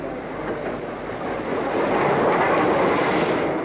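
The North Briton train pulling into York station, a broad rumbling roar of the locomotive and carriages that grows louder as it approaches and then holds steady near the end.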